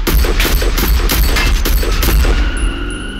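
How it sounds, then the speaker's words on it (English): Gunfire cracks in a loud, rapid fusillade of repeated shots, dense and booming with heavy low-end rumble, easing off into a ringing tail at the end. "Gunfire erupted."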